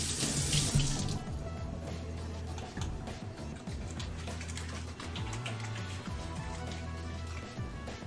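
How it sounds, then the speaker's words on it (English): Tap water runs steadily into a sink while hands are rinsed, a continuous close splashing rush with a brief louder spray at the start, no voices. "Get my hand a quick rinse up."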